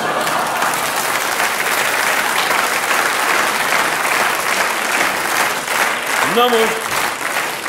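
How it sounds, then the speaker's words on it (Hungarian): Audience at a live 1982 Hungarian comedy performance applauds steadily, a dense wash of clapping that fills the whole stretch, with a voice speaking over it toward the end. "jó van, ne tüntess, csak tapsolj."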